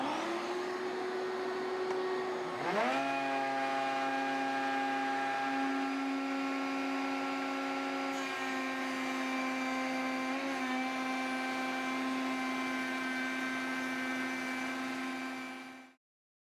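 A Freud router bit spins up with a rising electric whine and then holds a loud, steady high-pitched drone for a first pass through wood, ending with a sharp cut-off.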